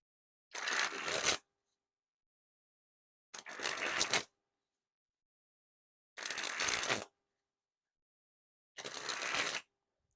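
A brand-new, slippery deck of Blue Bicycle Sharks playing cards is shuffled four times. Each shuffle is a crisp, close riffling burst of about a second, separated by silent gaps, with no talking.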